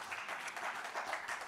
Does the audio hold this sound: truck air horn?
no